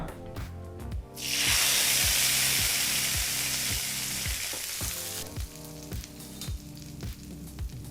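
Spices for a tempering hit hot oil with a sudden loud sizzle that settles into a steady, crackling hiss, with faint rhythmic music running underneath.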